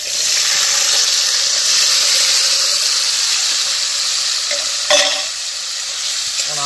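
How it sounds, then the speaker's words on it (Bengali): Sliced potatoes fry in hot oil in a kadai with a loud, steady hiss and crackle throughout, joined near the end by a brief bump and a spatter. "এই যে আলুগুলো কড়াইয়ে দিয়ে দিচ্ছি।"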